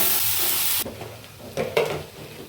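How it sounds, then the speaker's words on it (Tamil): Okra fries and is stirred in a hot pan for a Tamil tamarind curry, with steady loud sizzling that suddenly drops, then scraping stir strokes and renewed bursts of crackle. "வெண்டைக்காயை வளவளப்பு போகிற வரைக்கும் நல்லா வதக்கிக்கணும்."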